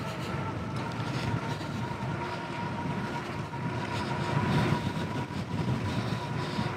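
Ecotric 48V fat tire folding electric bike riding at around 20 miles per hour on pedal assist, a steady motor whine and tire hum under rushing wind noise that swells slightly midway.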